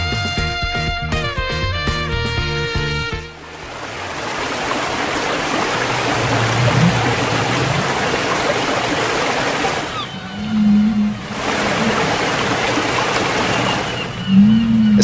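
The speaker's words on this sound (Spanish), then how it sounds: "Qué bello sonido el que nos regala el océano" Ocean waves and flowing water wash in a steady broad roar, swelling twice in surging breaks, after an opening passage of tonal music fades out; no one speaks over it.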